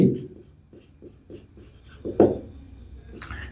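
Marker or chalk writing on a board during a physics lesson on bullet deceleration, a series of short scratchy strokes at close range with a sharper tap near the end, no speech over it.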